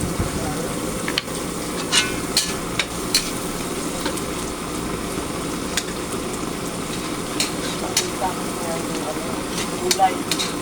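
Onions frying in a pan for pancit, a steady broadband sizzle with scattered scrapes and clicks from stirring throughout, moderately loud and close, with faint voices in the background.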